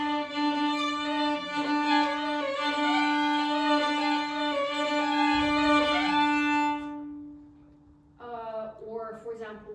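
Violin imitating the drone of a gaida, the Bulgarian bagpipe: a steady low drone note held beneath an ornamented, reedy melody, then a short pause and a brief phrase resuming.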